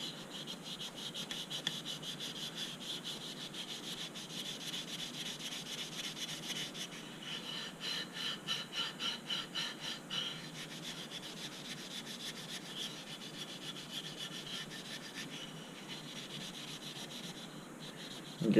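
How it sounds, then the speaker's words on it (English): Oil rubbed and burnished by hand into the wooden handle of a grandfather's old hatchet, a steady close dry rubbing that runs continuously with brief rhythmic strokes midway and no talking. "I'm going to start to burnish that in. That extra oil. And I'll rub that oil in."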